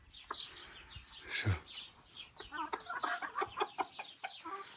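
A rooster and hens at a farmyard pigeon loft cluck and call softly up close, with a rapid run of repeated clucks and chirpy calls in the second half and a faint voice in the background.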